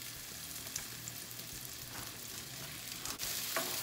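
Sliced red and green bell peppers frying with onions in a hot pan, a steady close sizzle with a few faint stirring clicks and scrapes.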